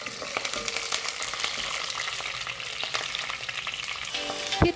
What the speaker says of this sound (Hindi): सबसे पहले 3-4 टेबलस्पून ऑयल गरम करके उसमें मस्टर्ड सीड्स डालना, फिर करी लीव्स डालना, फिर ग्रीन चिल्लीज डालना